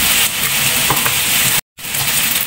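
Spaghetti sauce with salmon and creamy corn stirred in a pan over medium heat: a loud close sizzle with scraping stir strokes, cut by a brief moment of silence partway through.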